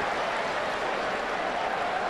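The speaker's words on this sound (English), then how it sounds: "Fella brought a glove, made the catch, gets a round of applause" A baseball stadium crowd applauds a fan's catch in the stands, a steady wash of clapping and cheering from many people at a distance.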